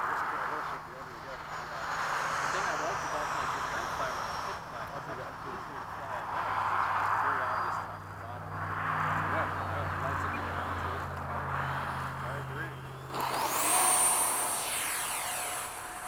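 An FMS 70mm F/A-18 electric ducted-fan RC jet flies touch and goes at a model airfield, a whooshing turbine whine that swells and fades as it passes repeatedly, with a rising high whine near the end; people talk throughout.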